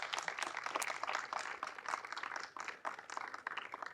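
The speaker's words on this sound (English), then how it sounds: "Please give them a round of applause." Faint audience applause at a school clean-and-green event, a scattered patter of clapping hands that thins briefly midway before continuing.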